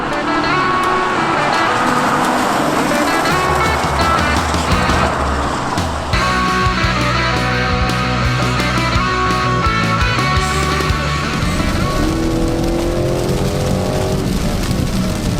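A 2019 BMW X7 three-row SUV cruises steadily, its engine a muted continuous drone under constant road and wind roar, loud and unbroken throughout.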